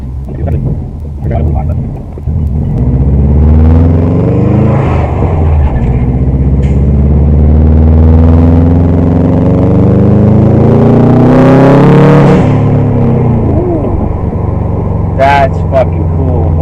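A Subaru WRX turbo engine revs up and settles, followed by a short, rapid blow off valve flutter near the end, with people talking loudly over the engine.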